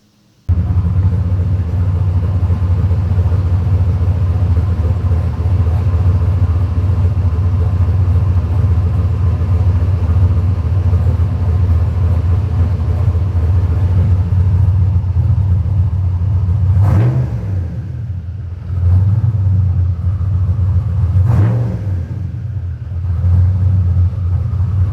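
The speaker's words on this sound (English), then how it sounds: "Looks like we've got the idle working." A Foxbody Mustang with a Holley Terminator X setup idles loudly and steadily up close, a deep, even rumble broken near the end by two short revs.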